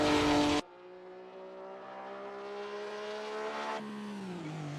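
An Alfa Romeo GTV6 race car accelerates down a straight, its engine note climbing steadily through a gear before a shift, heard clearly and fairly close after a short loud burst at the start.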